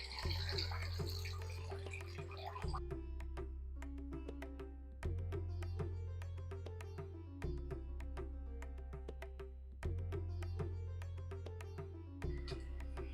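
Water splashes steadily into a pot of simmering lentil dumpling curry in several bursts, a soft continuous pouring and sloshing sound with small drips between.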